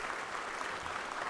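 Short burst of applause in a state senate chamber for the Ralston family, a steady dense patter of clapping heard alone without speech.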